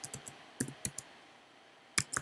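Typing on a computer keyboard, heard as sparse, quiet key clicks in small clusters with short gaps, close by in a calm room.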